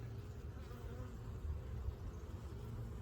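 A dense, steady drone of many honeybees buzzing close by in an opened hive, continuous and humming without pause.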